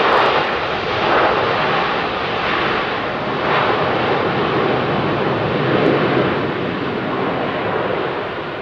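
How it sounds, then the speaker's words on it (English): An Asiana Airbus A350 airliner flying at a high angle of attack at Heathrow, a loud continuous engine roar that swells and fades slightly throughout. "very high angle of attack on that beautiful Asiana 350"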